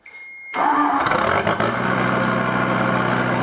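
The engine of a CT332 with no muffler cranks and catches after half a second, then runs on at a loud, throaty, steady idle close by.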